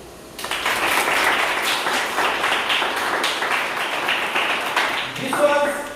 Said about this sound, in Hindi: તો तालियां